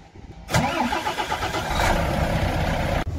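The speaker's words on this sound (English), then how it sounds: "we're gonna have to start the truck so the tanks can get refilled with air again" A truck's diesel engine cranks and catches after a quiet moment, then settles into a loud, steady idle close by to refill the air brake tanks on a winter day, with no speech.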